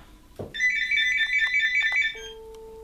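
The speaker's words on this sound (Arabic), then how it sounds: "التليفون رايس" A telephone rings in a kitchen where an almond cake is being made, with a steady electronic ringtone holding for about two seconds after a short knock, then a lower tone. The ring is loud and close, with no talk over it.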